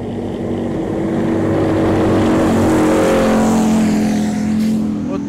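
Tracked armored vehicle leaving its firing position on the Avdiivka front, a loud, steady engine roar with grinding drivetrain noise that holds throughout, close by and drowning out everything else.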